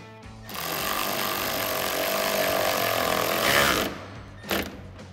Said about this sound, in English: Snug these down.